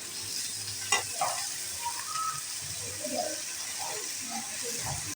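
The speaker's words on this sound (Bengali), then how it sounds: "আলুগুলো আবার ভাজা হয়ে গেছে" Salted potato pieces fry in a pan for an okra, potato and tomato curry, giving a continuous close sizzle broken by occasional clinks and scrapes of stirring.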